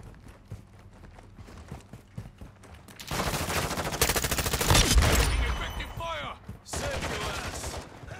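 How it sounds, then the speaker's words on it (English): Gunfire in Call of Duty Modern Warfare II team deathmatch erupts after a quieter stretch into loud, sustained automatic bursts, briefly pauses, then resumes. "Taking effective fire."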